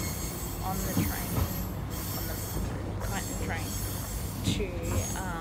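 Riding inside a moving passenger train out to Fairfield near Melbourne: a constant loud rumble of wheels on track, with repeated high squeals and clicks throughout.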